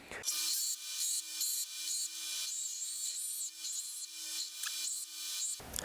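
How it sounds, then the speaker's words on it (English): Metal runners being beveled by grinding or filing before welding, a bright rasping scrape repeated in rhythmic strokes, close and continuous from start to end without speech. "what you saw in that last sequence there was me putting a beveled edge on all these surfaces I'm going to weld"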